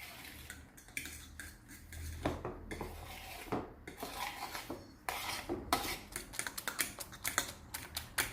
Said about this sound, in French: Et on va bien mélanger le tout.